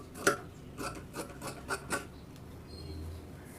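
Scissors cut away the inner side of a chudidar neck in a tailoring job, giving a few sharp snips and rasping strokes spaced across the first two seconds, then quiet.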